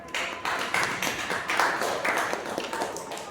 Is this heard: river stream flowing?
no